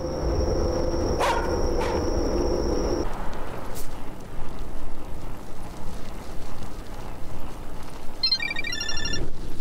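A phone ringtone for an incoming text message sounds as a sustained electronic tone with repeated rings, followed later by a short burst of beeping chimes against a noisy background.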